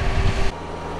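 A tractor works a flooded rice paddy at planting time, its steady low engine rumble loud and close for half a second before dropping to a quieter drone.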